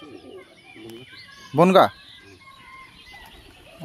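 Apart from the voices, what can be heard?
pigeons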